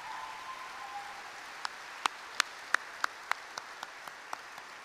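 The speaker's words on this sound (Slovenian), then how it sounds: "En aplavz, prosim, za vse profesore" Scattered, fairly faint applause at a Slovenian gymnasium school event honouring the professors: about a dozen sharp individual claps ring out in a loose rhythm and fade away.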